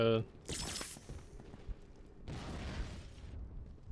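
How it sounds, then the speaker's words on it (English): Short bursts of SMG gunfire in the shooter Brink, two separate rattling volleys with a quiet gap between, moderately loud and mixed with game sounds, talking heard over it. "testing out the SMG here"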